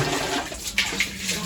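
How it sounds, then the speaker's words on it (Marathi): Water runs and splashes steadily into pots at home, a close, continuous gushing with a few brief clinks. "अनु मम्माला मदत कर ना ग पिल्लू पाणी भरायला"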